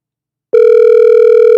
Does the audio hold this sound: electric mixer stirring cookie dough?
no